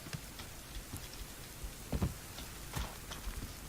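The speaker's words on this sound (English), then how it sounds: "it's been raining most of the day" Rain falling steadily in the survival video game Subsistence, a soft continuous patter with a few louder drops and low rumbles, heard alone.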